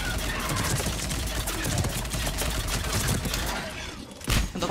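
Rapid gunfire in Mass Effect 3 multiplayer, dense bursts of shots crackling over a busy game soundscape, fairly loud, with a single sharper blast near the end.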